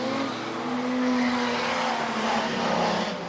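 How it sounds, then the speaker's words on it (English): Division 2 street sedans racing a heat at Maryborough Speedway, a steady, loud blend of revving engines and tire noise holding close for a few seconds, one engine note rising and falling above the constant roar. "The Division 2 Street Sedan heat race."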